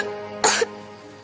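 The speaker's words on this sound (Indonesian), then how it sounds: "Kok makin parah sih kamu batuknya?" A child gives one short, harsh cough, loud and close, then quiet room tone follows with the start of another sound at the very end.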